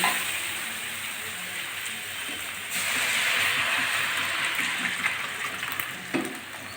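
Potato, bitter gourd and pumpkin pieces fry in a pan with a steady, hissing sizzle that swells slightly midway, with faint stirring scrapes and no talk.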